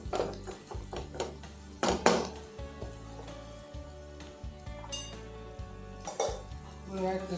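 A metal spoon stirs prawn pickle in a pan, with repeated scraping clinks and knocks against the metal in an irregular rhythm, close and fairly loud over a low steady hum.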